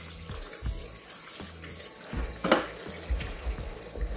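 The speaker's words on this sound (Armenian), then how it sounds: "տաք ջրով, լավ հոսով ջրի տակ լվանում ենք։" Hot tap water runs in a kitchen sink while peppers are rinsed under it, a close splashing flow with uneven bumps and thuds as the peppers are handled, no speech.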